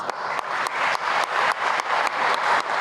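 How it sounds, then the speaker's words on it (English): Audience applause at a fire and EMS swearing-in ceremony, steady moderate clapping from a crowd, slightly distant, with no talk. "I wanted to give them a round of applause"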